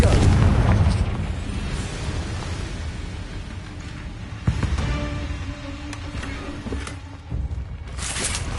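A Confringo explosion spell from Hogwarts Legacy: a loud, deep blast at the start that decays into rumbling, followed by a few smaller bursts and impacts amid game ambience.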